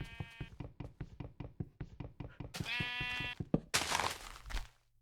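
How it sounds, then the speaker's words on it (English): Sheep in Minecraft bleat in a quick string of repeated, close cries, joined by blocky knocking sounds and a sharper burst near the end. "Goddamn sheep."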